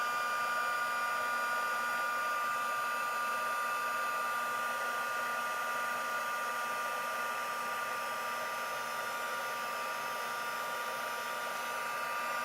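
A heat gun blows steadily to melt embossing powder on a stamped card, a constant loud whirring hiss with a tonal whine that runs unbroken throughout, with no talk.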